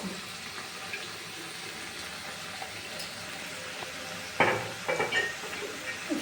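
Ground cumin and spices tipped into a sizzling pan of oil for a Bengali omelette curry, a steady soft fry hiss with a sharper sputter and clatter as the spices land and are stirred.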